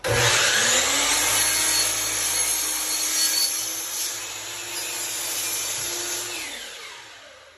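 A saw cuts through a wooden shiplap ceiling plank in one continuous, close, rasping stroke that stays loud at first and eases slightly toward the end, with no talking.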